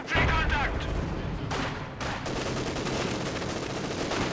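Panzer IV tank cannon fire in the strategy game Company of Heroes 2, heard as a loud blast at the start followed by sustained battle rumble and further distant booms throughout.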